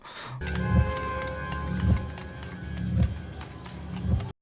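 Hollow clip-clop horse-hoof knocks from a film scene land in a slow, regular rhythm, about one per second. A faint tonal hum runs underneath them.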